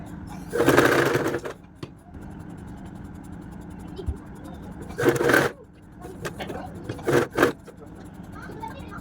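Domestic sewing machine stitching a kids' frock, running in three bursts of steady mechanical whirring, the first longer, with short pauses between and a softer stretch of quieter handling in the gaps.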